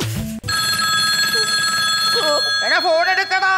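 A telephone rings with a continuous, steady electronic bell tone, loud and near, and a voice begins talking over the ringing toward the end.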